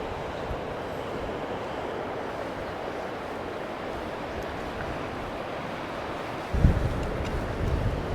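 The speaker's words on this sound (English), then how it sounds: "Wow, it's windy up here." Steady broadband wind roaring across an exposed hilltop in Ireland, continuous and loud against the microphone, with a sharper gust buffeting near the end.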